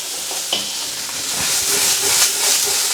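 Onion and broccoli sizzle loudly in a hot pan while being stir-fried, a bright continuous hiss with a few scraping stirs and crackles, no voices.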